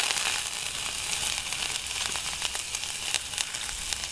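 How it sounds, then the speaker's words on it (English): Diced shallots and garlic hit hot olive oil in a pan, giving a loud, dense, unbroken hiss and crackle that holds steady throughout with no voices. "the shallots that you've already diced and the garlic straight into the pan"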